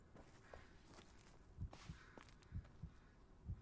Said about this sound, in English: Why do I hear my heart pounding?